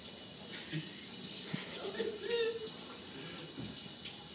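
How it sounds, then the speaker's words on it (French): Water splashing and running steadily as a patient is rinsed in a bathtub, a soft continuous wash with brief louder gushes near the middle. "Je vais venir vraiment rincer correctement, comme il faut"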